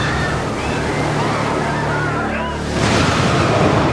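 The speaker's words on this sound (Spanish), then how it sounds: "Muros de agua de hasta 30 metros de altura avanzan a través del Océano Índico en todas direcciones" Tsunami walls of water surge across the Indian Ocean, a heavy churning roar of surf that swells louder and rougher toward the end.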